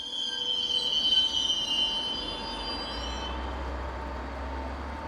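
Swiss electric locomotives hauling a passenger train roll by with high-pitched wheel squeal that fades out, leaving a low rumbling drone of the rail cars.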